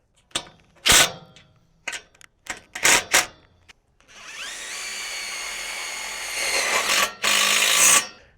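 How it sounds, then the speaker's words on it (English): Bolts on a high tunnel's double channel get tightened, first with several sharp metallic clanks and taps, then a steady whirring power driver run that ends in a louder final burst, with no voices. "And then we'll tighten down the bolts."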